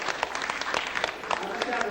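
Dense clapping from a crowd, steady and sustained, with scattered sharper claps standing out.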